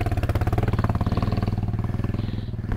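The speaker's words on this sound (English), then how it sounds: "There goes Pat on the mighty DR" A Suzuki DR dirt bike passes close by, its single-cylinder engine giving a loud, rapid, pulsing thump that fades slightly as it moves away. No one speaks.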